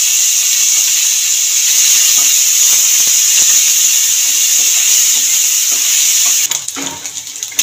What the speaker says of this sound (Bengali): তেলের মধ্যে নুন মাখানো হলুদ মাখানো মাছগুলো ভেজে নেব